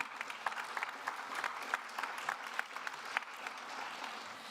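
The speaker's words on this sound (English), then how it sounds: "this needs an applause for you" An audience at a sustainable finance plenary in Luxembourg applauds, a steady, fairly distant wash of clapping with a few sharper individual claps popping out near the front.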